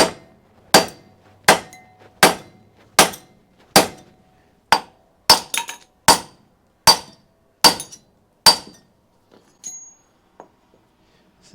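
A hammer wallops a supersized socket into the bore of a Honda SL100 engine during a teardown: about thirteen sharp, ringing metallic strikes at a steady pace, close and loud, with near silence after.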